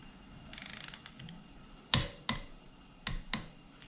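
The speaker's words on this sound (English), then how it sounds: "He's torquing the head down." A ratchet wrench torques down the cylinder head on an Allis Chalmers C engine, giving a fast run of soft clicks followed by several sharp, close metallic snaps spaced out over a few seconds in a quiet shop.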